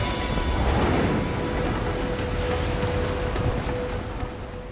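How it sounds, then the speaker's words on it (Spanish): Strong, cold surf breaking on a Peruvian shore near Nazca, a continuous loud, broad rumble and wash of waves close by, slowly easing toward the end, with no voices. "El agua está helada y el oleaje es bastante fuerte."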